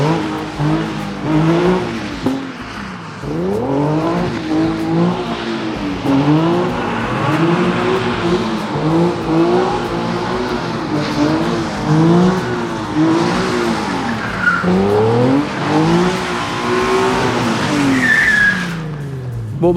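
Renault car run hard through a cone course at a driving event, engine revving up and down in repeated sweeps with tire squeal as it skids through turns, loud and close for the whole run.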